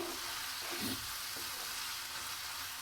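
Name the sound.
chicken frying and being stirred in a pan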